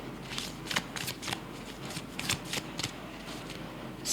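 Tarot cards are shuffled and drawn by hand, giving a string of crisp riffling snaps and flicks, close and fairly clear, with a louder rustle at the very end.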